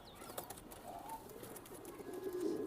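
Racing pigeons coo at close range in a loft, with a paired cock and hen in breeding condition calling steadily through the short stretch, alongside faint chirps and a brief wing flutter.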